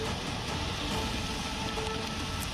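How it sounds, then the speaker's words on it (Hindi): Heavy rain falls in Mumbai with a steady, dense hiss and patter that holds at an even level throughout, and no talk. "सुबह से तेज बारिश हो रही है मुंबई में"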